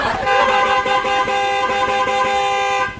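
A loud car horn blares in one long continuous honk, close by, over road noise, ending abruptly.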